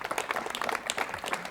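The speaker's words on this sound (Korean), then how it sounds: "박수로 맞이해 주십시오." A 1986 Korean television studio audience gives a short burst of steady, dense applause to welcome a guest.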